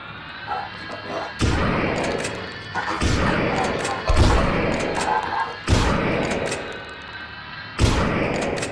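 Heavy shotgun blasts in the horror game Lost in Vivo, four loud booming shots spaced a second or more apart, each with a sharp crack and a decaying tail, over a busy game backdrop.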